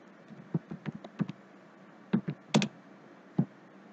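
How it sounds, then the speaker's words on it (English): A computer keyboard clacks under close, quick keystrokes in short irregular bursts with brief pauses between them while a command is typed in Catia V5, and nobody speaks. "Now I will type C helix command here."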